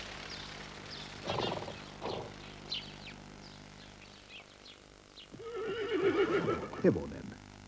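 A horse whinnies loudly in a long, wavering neigh, preceded by snorts and a few hoof-like knocks at moderate distance.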